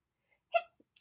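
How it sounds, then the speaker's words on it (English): A single sharp sneeze burst close by, short and loud, followed by a faint click and a little breath noise. "I have a sneeze incoming."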